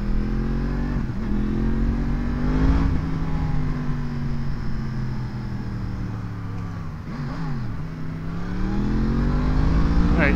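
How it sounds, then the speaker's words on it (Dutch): A car accelerates hard on a road to race a moped, engine revving and climbing through gears, loud and close with shifts audible. "Ja, ik ga racen tegen een brommer."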